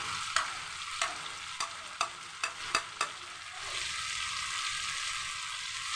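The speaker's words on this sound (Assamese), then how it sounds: "এতিয়া কাটি থৈ দিয়া বিলাহীখিনি দিম।" Chopped tomatoes going into a homestyle chicken curry frying in a pan, a steady hiss of sizzling oil broken by several sharp spoon knocks and stirring scrapes, then a fuller sizzle afterward, with no one talking.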